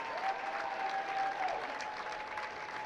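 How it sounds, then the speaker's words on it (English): Standing ovation from a high school girls' basketball crowd in a gym, steady sustained clapping filling the whole stretch, with a faint tone running underneath. "those young ladies going out right now getting a standing ovation here from the Franklin crowd"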